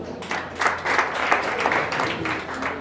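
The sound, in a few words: audience applause at an awards ceremony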